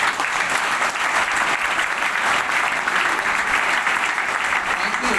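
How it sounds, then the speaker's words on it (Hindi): Loud, sustained applause from an audience at a sharing event in Virar, dense steady clapping filling the whole stretch without pause. "ऐसे ही एक जोरदार तालियों के साथ मैं माइक सर को हैंडओवर करना चाहूंगा।"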